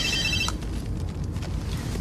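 A telephone rings briefly at the start, a short electronic trill in a police station office before it is picked up, followed by quiet room tone.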